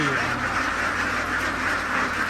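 A dense flock of ducks on a Thai duck farm, including CV Super, Khaki Campbell and Barbary breeds, quacks continuously, many birds calling at once in a loud, steady chorus.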